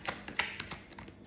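Tarot cards are drawn from a deck during a reading, heard as a few soft, close taps and slides of card against card, spaced irregularly, with no talking.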